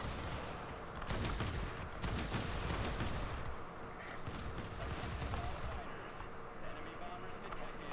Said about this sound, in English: especially the 37mm, just overheats way too quickly on this